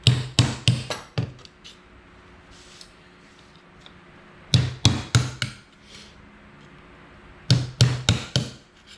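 A hammer taps down the lid of a can of water-based latex paint in three bursts of four or five quick, sharp knocks, separated by quiet pauses.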